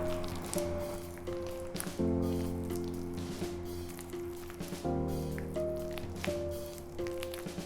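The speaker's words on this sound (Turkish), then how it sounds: "Şimdi birazcık daha seri hareketlerle hamuru çekerek karıştıracağım" Hamburger bun dough being mixed by hand with quick fingertip pulling motions, giving soft wet squishing and slapping sounds that repeat in bursts, close and fairly quiet, with no talk.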